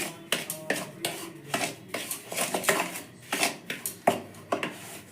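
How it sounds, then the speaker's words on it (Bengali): A spoon repeatedly scrapes and clinks against a bowl while Horlicks and semolina are stirred together, giving sharp, irregular taps and rustling strokes up close. "এবার আমি হরলিক্স আর সুজিটা ভালো করে আমি মিশিয়ে নেব।"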